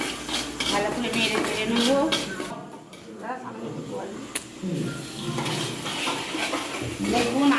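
A spoon stirs and scrapes spice masala frying in a pan, with a steady sizzle and clinks of metal on the pan, under someone speaking.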